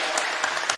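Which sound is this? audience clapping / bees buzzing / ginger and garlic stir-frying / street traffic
audience clapping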